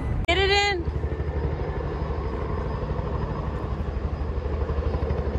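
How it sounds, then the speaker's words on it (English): Low, continuous rotor rumble of a helicopter passing overhead at a trout river, following a short burst of a voice at the start. "There's a helicopter."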